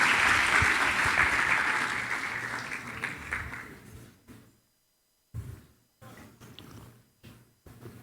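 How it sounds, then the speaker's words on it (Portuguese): Congregation applauding at a lively church service, a dense wash of clapping that fades out within about four seconds, leaving a few short bursts of sound and brief quiet gaps. "Aplauda o Senhor, aplauda o Senhor."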